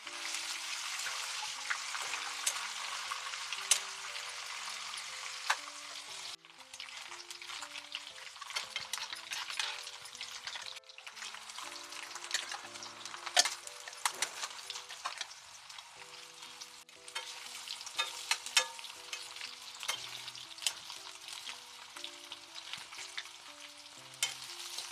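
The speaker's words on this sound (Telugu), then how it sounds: "ముందైతే నేను పన్నీర్ వేయించుతున్నాను." Homemade paneer fries in a pan with a dense, spattering sizzle and frequent clicks of a spoon stirring, continuous for the whole stretch, with no talk.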